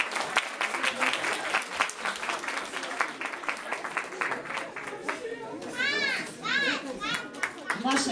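Clapping at a master's diploma ceremony at MPGU rises as graduates are named, steady applause mixed with crowd chatter and children's voices, with high, lively shouts near the end.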